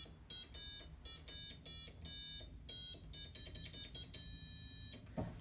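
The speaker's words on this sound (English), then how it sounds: "It's got a full 8-note octave, and then for each key that you press, one of the lights lights up." Short electronic beeping tones from a homemade Arduino musical keyboard with an 8-note octave, played as a quick melody of separate pitched notes, clear and fairly quiet, with no talking.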